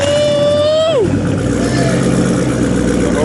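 Car with a muffler delete and a Bassani axle-back exhaust revs loudly and holds a high note, then drops sharply into a steady, deep idle rumble nearby.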